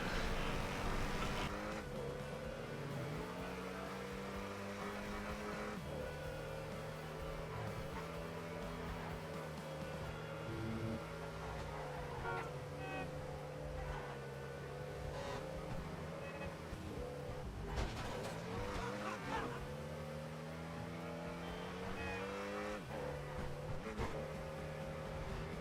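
Steady engine drone of a mail truck driving through the Transport Tycoon video game, a continuous motor hum with shifting tones layered over background game music, alone with no talk.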